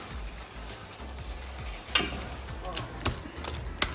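Tomatoes tipped into a hot pan of frying oil, setting off a steady crackling sizzle with a few sharper spits and scrapes from stirring, close and moderately loud.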